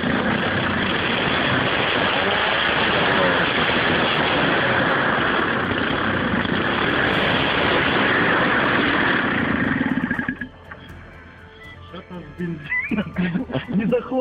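A SACHS Wankel rotary engine on a motorcycle running loud and close in a steady, rough drone for about ten seconds, then cutting out, followed by scattered handling noises and people talking.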